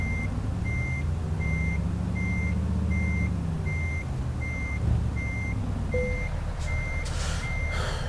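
Reversing beeps from a short-wheelbase Mercedes NG1631 truck in Euro Truck Simulator 2 repeat in a steady, evenly spaced rhythm over a low engine rumble, with a brief air hiss near the end.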